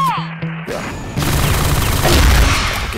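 A grenade blast in a video game erupts after a short pause, a loud crashing roar that rumbles on for about two seconds, following a shouted warning.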